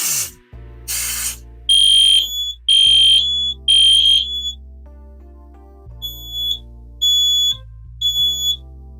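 A fire alarm system set off by a smoke detector sounds loud, repeated electronic beeping tones in evenly spaced bursts, after two short hissing sprays, with a low hum running underneath and changing alarm patterns later.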